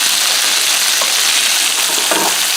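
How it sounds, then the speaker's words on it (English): A Spam and egg quesadilla with cheese fries in a hot frying pan, giving a loud, steady, crackling sizzle throughout with no talking. "That baby's sizzling."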